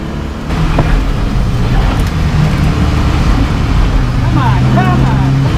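A PRO3 race car engine during qualifying on a short course, a loud steady in-car roar with rising whining shifts near the end, with voices speaking over it.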